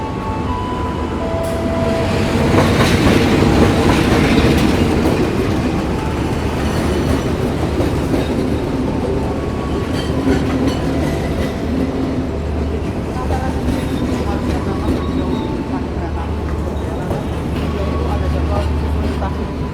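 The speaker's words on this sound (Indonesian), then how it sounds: "ini jalur 2 masuk kereta api Penataran dari Surabaya, Blitar, Kertosono ke Surabaya lagi" The Penataran passenger train rumbles and rattles steadily into a station in Indonesia on track 2, loud and close, with a constant low drone and occasional squeals over the clatter.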